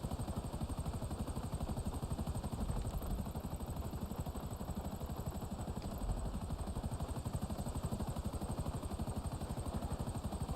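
A helicopter in GTA Online flies with a steady, loud rotor chop and engine whine that holds evenly throughout, with no talk over it.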